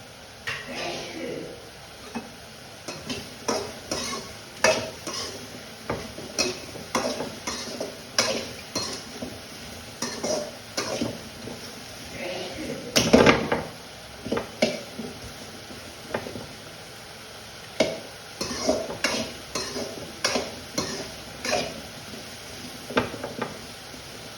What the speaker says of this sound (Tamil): அதுக்குள்ளே அதை வதக்கலாம்.